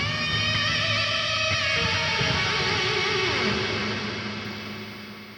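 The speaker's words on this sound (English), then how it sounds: "you can already hear that the reverb is really strong" A guitar plays a lush lead tone through the Wavemind ToneSuite Distant plugin, with strong reverb and delay. The sustained, washy notes smear into a long tail that fades out at the end.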